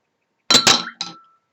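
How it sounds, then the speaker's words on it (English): A rock is dropped into a glass vase, giving two quick bright clinks followed by a third softer one a moment later, each ringing briefly and fading, close up in a quiet room. "That was a loud clink."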